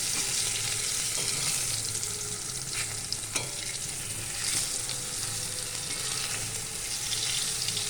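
Eggplant slices sizzling and frying steadily in a pan with dry chili powder, a continuous close crackle with a few soft stirring or turning clicks and no talk.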